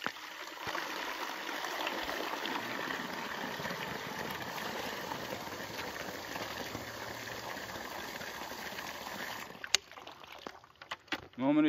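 Continuous rushing, splashing water pours into a bucket for several seconds, then stops abruptly, followed by a few clunks and handling noises.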